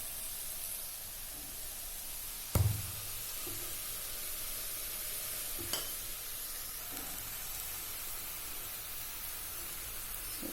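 Borscht bubbling and sizzling steadily in a pot over a raised gas flame, a constant close hiss with two sharp knocks from the pot or a utensil and occasional faint clinks.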